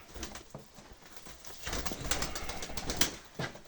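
Pigeons kept by a fancier coo softly in bursts with some fluttering and shuffling, close and fairly quiet, amid light rustling and no speech.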